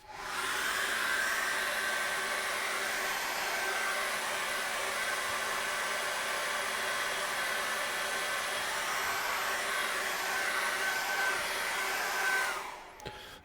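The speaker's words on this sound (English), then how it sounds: "just dry that very quickly with a hairdryer" A hairdryer dries acrylic paint on a mountain landscape canvas, blowing as a steady loud whooshing roar for over twelve seconds before switching off abruptly at the end.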